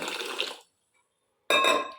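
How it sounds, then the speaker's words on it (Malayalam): Water poured into a cup of raw rice, a short splashing pour, a brief pause, then a second louder burst of pouring, close and clear with no voices. "ഇതിനകത്തേക്ക് നേരത്തെ ചെയ്ത പോലെ തന്നെ മുങ്ങിക്കിടക്കാൻ പാകത്തിനുള്ള വെള്ളം ഒഴിച്ചു കൊടുക്കുവാണ്"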